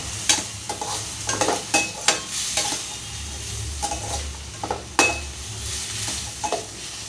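Onions sizzle in a pan with turmeric and salt while a spoon stirs them, scraping and clinking against the metal in repeated sharp strokes over a steady frying hiss.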